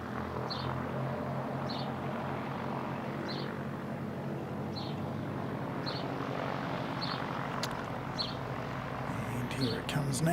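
Aircraft OAB in All Black livery passes by as a continuous broad engine roar that holds steady and swells slightly toward the end, with faint voices underneath.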